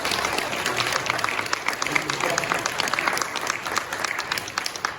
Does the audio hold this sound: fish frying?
no